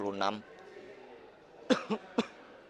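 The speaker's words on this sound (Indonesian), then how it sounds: "Batuk, Batuk." Three sharp coughs come in quick succession, close and fairly loud, following a brief spoken word.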